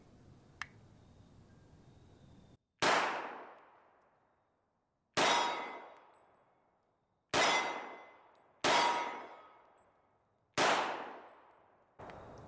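An FNX-45 Tactical pistol fitted with a Glock 17 recoil spring fires six single shots at spaced, uneven intervals. Each is a sharp, loud, close crack followed by a long ringing decay, with a small click before the first shot and no talking.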